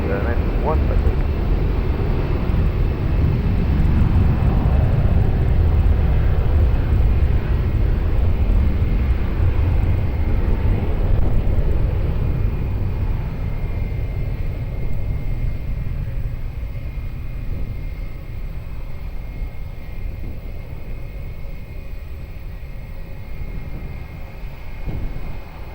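An airliner taking off from runway 20 at Lisbon Airport, its engines roaring loud and steady, then fading slowly as it climbs away.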